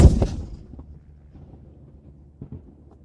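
A single ceremonial gun salute fired at King Charles III's proclamation: one loud, low booming shot at the start that rumbles and decays outdoors, followed by faint background noise.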